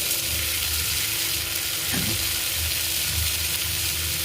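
Tomatoes with rock salt sautéing in a pan, a continuous soft sizzle with a faint scrape of stirring, close and fairly quiet, with no talk.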